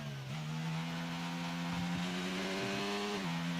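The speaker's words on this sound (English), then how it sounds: "I can hear the traction control" An F3 racing car in a racing video game holds a sustained, buzzing engine note whose pitch briefly steps down and back up as traction control cuts the engine. The sound is loud, close and unbroken, with no talk.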